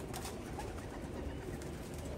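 Racing pigeons coo softly in a loft during a Capistrano Classic race, a steady low murmur of several birds blended with a continuous broad hiss of background noise.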